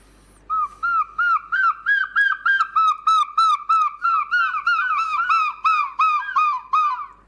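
A person imitating the call of a herring gull, a long series of loud, clear yelping notes in a steady rhythm, close and alone.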